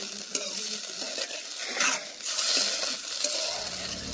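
Khaman tempering with sugar simmering and sizzling in a pan, a bright steady hiss with a few light stirring clinks and a louder bubbling swell midway, close and without speech.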